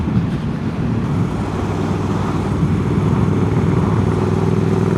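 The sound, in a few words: Triumph Speed Triple 1200 RS motorcycle with Hitchcocks exhaust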